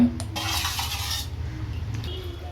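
Coconut milk batter for traditional Sri Lankan palm-jaggery thothal halwa is stirred in a pot, giving soft scraping and clinking against the vessel, a brisk burst early and then quieter continuous stirring.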